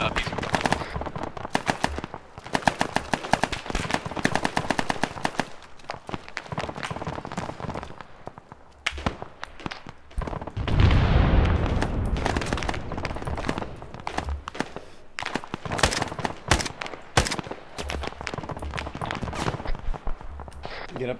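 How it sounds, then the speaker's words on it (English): Heavy machine gun fire in the Arma 3 ALiVE military game, rapid bursts of loud gunfire repeating throughout, with other shots and footsteps nearby and people talking over the firing. "there's a big HMG"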